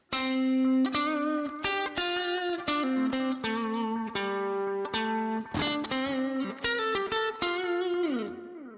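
Distorted electric guitar through a Line 6 POD HD500x on its all-around preset, with chorus-like shimmer, plays a run of punchy chords and notes, loud and up close, ending on a bending, fading note.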